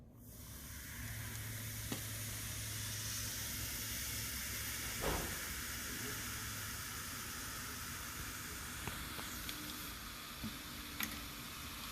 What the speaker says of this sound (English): obviously you guys saw the bubbles fizz